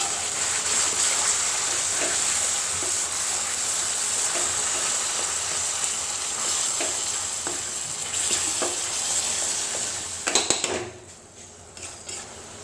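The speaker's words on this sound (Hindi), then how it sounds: "जो ढेर सारा हमने टमाटर का पेस्ट बनाया था, अब इसको इसमें ऐड करेंगे और इसको पकाएंगे" Tomato paste is stirred into a cooking masala for a rajma and potato curry, giving a steady close sizzle with scattered clinks of a spoon against the pan before the frying noise drops away near the end.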